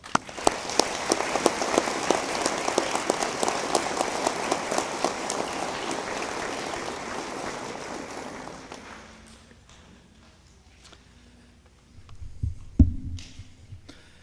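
Sustained audience applause fills a commencement ceremony hall as Bishop Peter Smith is welcomed to speak, loud dense clapping for about nine seconds before it fades to quiet, followed by a brief low thump near the end.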